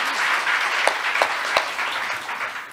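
A conference audience at the Asia-Pacific ADR Conference breaks into full, steady applause to welcome the session chair, a dense wash of many hands clapping together that holds for a few seconds with a few sharper claps standing out.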